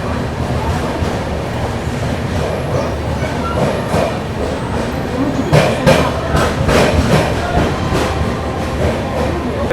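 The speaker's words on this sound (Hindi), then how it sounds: "अपनी गोवा संपर्क क्रांति एक्सप्रेस पहुंच चुकी है कोटा जंक्शन पे" Goa Sampark Kranti Express pulling into Kota Junction: a steady rumble of rolling train with rhythmic rail clatter growing more pronounced toward the end, over a busy station background.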